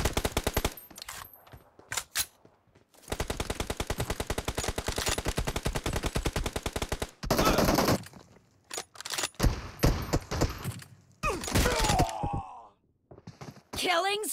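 Automatic gunfire in a battle royale video game, long rapid bursts of machine-gun fire sustained for several seconds, loud and close, followed by further shots and game sound effects.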